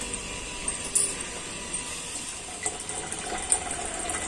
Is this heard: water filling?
yes